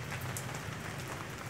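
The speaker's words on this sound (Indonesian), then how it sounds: "ini masih ada rintik-rintik hujan" Light drizzle falls steadily on a banana plantation during the rainy season, a soft continuous patter of drops on leaves with no voices.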